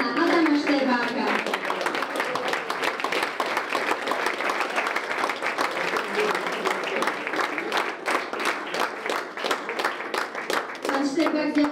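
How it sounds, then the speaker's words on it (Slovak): Applause at a gala evening for the SEPS Poprad Tatry Open 2025 rises into rhythmic clapping from a sizable crowd, with speech briefly at the start and end. "Veľký potlesk poprosím pre pána Adama Šterbáka."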